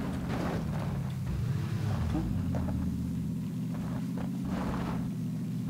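Steady low engine rumble from a Dacia car in PUBG, constant and close, with some faint scraping and movement noise over it.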